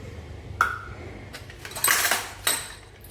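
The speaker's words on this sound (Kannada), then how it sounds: "ಹುಣಸೆಹಣ್ಣಿನ ರಸ ಚೆನ್ನಾಗಿ ಕ್ಲೀನ್ ಮಾಡ್ಕೊತಾ ಇದ್ದೀನಿ" An old copper vessel being scrubbed with tamarind juice gives off a few sharp metallic clinks and scrapes, close and moderately loud, with no talking.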